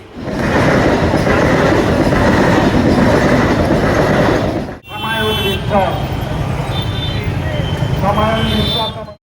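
A train passes a lowered railway level crossing near Krishnanagar with a loud, close, continuous rumble and clatter. Metallic wheel squeals ring out in the latter half.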